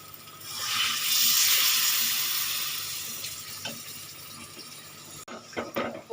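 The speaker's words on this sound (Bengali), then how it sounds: "এবারে দিয়ে দেব জল" Water poured into a hot pan of potato and fish curry made with chupri aloo hits with a loud hissing sizzle that swells and slowly fades, followed by a few clinks and stirring clatters.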